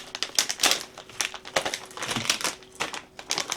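Tape being pulled and pressed down on an item inside a gift basket, a busy run of crinkly, crackling rustles with short tearing bursts, close and fairly loud throughout.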